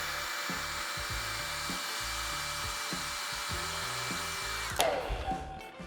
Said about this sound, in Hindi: फ्रंट से ब्लो ड्राई करने के बाद अब स्टार्ट करते हैं हम अपने बैक एरिया से